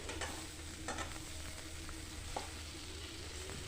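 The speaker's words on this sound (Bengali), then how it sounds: "এই অবস্থায় মোটামুটি মিনিট 3 কষে নেব গ্যাসের আঁচ কমিয়ে।" Ghugni masala cooked with chicken fat is stirred over a low gas flame, making a faint, continuous soft sizzle with quiet scraping stir strokes throughout.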